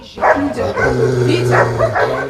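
Stray dog at a shelter in Kherson barking in a quick run of loud, close yips and barks, with voices faintly mixed in.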